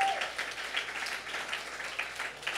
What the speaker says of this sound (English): Can we please give a big round of applause for Steve right there?